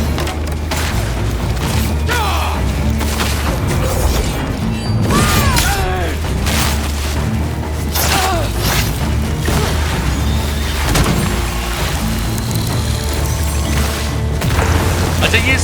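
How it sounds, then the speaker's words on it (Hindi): Heavy booms and crashing impacts ring out in a Ghost of Yotei battle, where a spider-like enemy lobs grenade-type bombs that burst loudly amid clanking mechanical noise and continuous game sound. "ये स्पाइडर इसको ग्रेनेड टाइप का फेंक के दे रहा है और अगर मेरे ऊपर वो फट गया ना तो मेरा वेपन गिर आएगा हाथ से"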